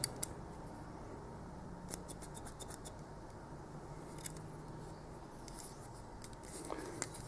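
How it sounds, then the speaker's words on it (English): A pair of scissors from an everyday-carry kit is handled close up, with faint, sparse clicks and light scrapes over a quiet, hissy background. "a pair of scissors"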